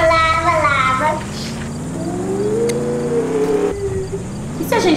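A Roblox Mad City car engine hums and rises in pitch as the car accelerates, steady and close, with a voice speaking briefly over the start.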